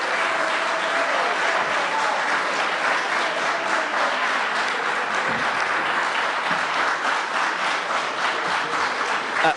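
An audience at a Maryland 5th Congressional District candidate forum applauds in a dense, steady burst of clapping that holds strong for the whole stretch.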